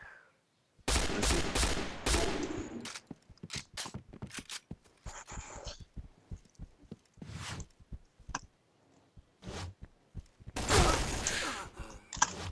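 Rapid bursts of video game gunfire, sharp cracks and automatic volleys in irregular clusters with quiet gaps between them.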